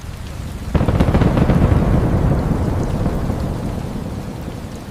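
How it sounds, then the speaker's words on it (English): AI-generated rain and thunder outside a glass window: steady rainfall hiss, then a sudden thunderclap at under a second that swells into a long rolling rumble and slowly fades back into the rain. "create a rainy atmosphere outside the glass window with natural thunder and rainfall sounds"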